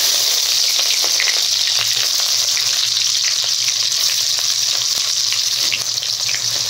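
Chopped onion frying in mustard oil with cumin and bay leaf, a loud, steady, close hiss and crackle of sizzling that runs unbroken throughout, with faint stirring clicks.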